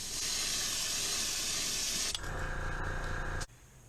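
A paint airbrush sprays a steady, loud hiss for about two seconds, then a thinner sputtering spray as the paint runs out, ending abruptly, heard up close.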